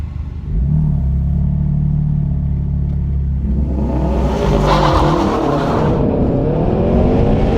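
A Subaru STI or BMW M4 launches hard in a drag race, its engine holding a loud steady rev at the line before the revs climb sharply and the car surges away, close and alone without voices.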